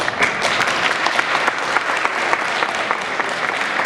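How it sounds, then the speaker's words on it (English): Steady, dense applause from an audience at a poetry recitation finals, a full room clapping continuously at even loudness with no voices standing out. "Round of applause to you."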